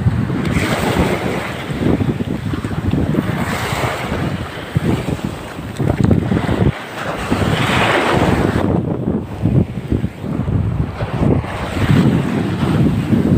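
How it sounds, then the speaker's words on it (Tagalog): Big ocean waves surge and crash around a boat at sea. Strong wind buffets the microphone throughout, with a loud, continuous roar and repeated swells. "malalaki ang alon"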